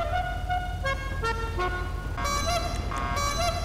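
Clown-style novelty horn fitted to a Bugatti Chiron in GTA 5, sounding a quick series of bright, musical toots in a bouncy, tune-like pattern, loud and close throughout.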